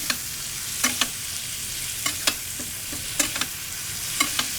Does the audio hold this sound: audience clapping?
no